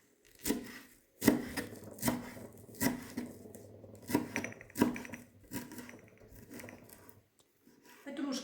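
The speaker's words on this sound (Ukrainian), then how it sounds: "І швиденько нарізаю зелену петрушку." A knife chops fresh parsley rhythmically on a wooden board, crisp cuts arriving in a steady series of strokes, close up, with a short pause before resuming.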